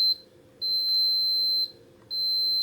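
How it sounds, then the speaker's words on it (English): Multimeter continuity test on an Amiga 500 circuit board trace, giving repeated steady high-pitched electronic beeps, each about a second long with brief pauses, close and clear without speech. "continuity and you've done it right, it should beep"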